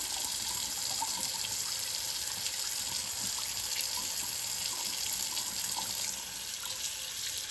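Faucet water running steadily into a sink while tanning mousse is rinsed out of an application mitt, a constant close splashing stream that eases slightly near the end.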